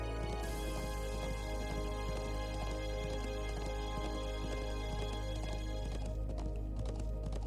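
Galloping horse hooves in the video game Trails of Cold Steel, a steady rapid clip-clop running throughout over game music and ambience, fairly constant in level.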